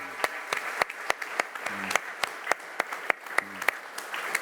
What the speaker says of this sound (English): I think we can have really a big round of applause for the three panelists we've had today, Elena, Mo and Corinne.